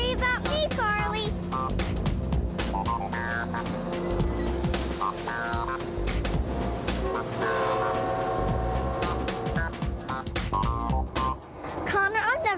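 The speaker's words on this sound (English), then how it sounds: "Stop that train!" A train rolls past with repeated loud horn blasts and rumbling cars, while excited voices talk and shout over it throughout.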